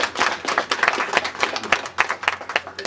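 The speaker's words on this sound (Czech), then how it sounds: "Ještě jednou potlesk!" Applause from a crowd at a Babeta moped cup award ceremony in Křesetice, a dense run of many hands clapping at close range, steady and lively throughout with no talk over it.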